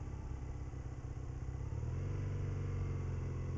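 A motorcycle slowing after the throttle is rolled off, a continuous low engine drone with a rumbling exhaust that shifts in pitch partway through, steady and close, no speech.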